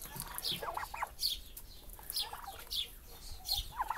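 Hens clucking and chirping close by in a short series of soft calls, with faint background noise and no talk.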